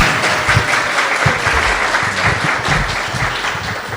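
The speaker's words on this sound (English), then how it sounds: "Everybody, please just give me a round of applause for Rebecca." A crowd gathered for the dedication of a temple healing garden gives a warm round of applause, clapping close and loud and keeping it dense and steady throughout.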